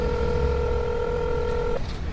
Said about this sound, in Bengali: কাগজে লেখা ডেভিড ওব্রায়েন, নিচে একটা নাম্বার লেখা। ফোন করলাম